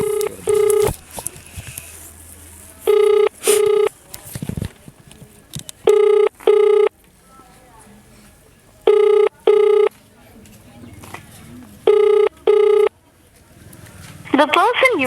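Repeated ringback tones on an unanswered phone call to a ward resident in Jammu, paired bursts recurring every few seconds, loud and clear with faint background talk between rings.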